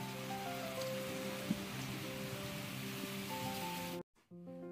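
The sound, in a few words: heavy rain during a typhoon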